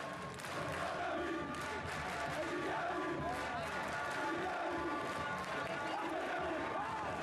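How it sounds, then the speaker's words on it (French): Huge stadium crowd at a Congolese Linafoot football match at Stade Frédéric Kibassa Maliba, a dense continuous roar of chanting and cheering that stays loud and steady throughout. "Une foule immense, des chants et des cris de joie pour une ambiance incandescente"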